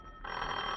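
In a radio drama a telephone bell suddenly starts ringing, a steady trilling burst that is fairly faint and comes in after a brief quiet hum.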